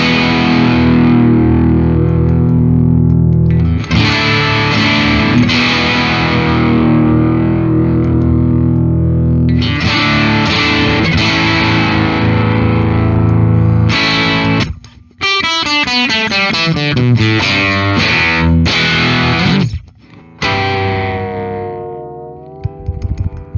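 Chords ring out on a 1996 Fender Stratocaster fitted with nylon strings and a scalloped fretboard, strummed loud and sustained with a few brief pauses and a stretch of quick plucked notes.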